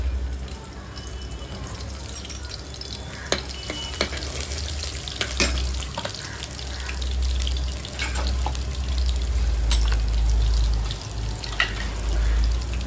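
Garlic dropped into hot oil in a pot for a spicy prawn and potato curry, sizzling and crackling steadily up close with a low rumbling undertone and occasional stirring clinks, no voices.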